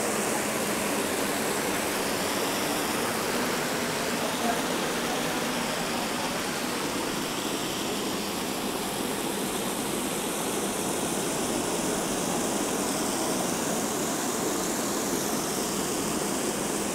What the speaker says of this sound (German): ein Wasservorhang